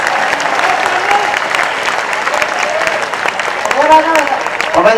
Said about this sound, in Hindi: मेरी बात का समर्थन करते हैं तो जिंदा जिंदा आदमियों की तरह तालियां बजाए पूरा सदन मेरे समर्थन।